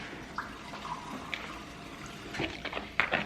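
Water poured into a bowl of powdered mix while making batter for fried Oreos, heard as light splashing and trickling that grows busier toward the end, fairly close with faint background noise.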